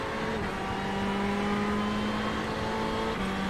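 A Ferrari GT race car in iRacing holds a steady, loud engine drone with a sustained harmonic tone, shifting pitch slightly as it runs on at Interlagos, continuous with no talk over it.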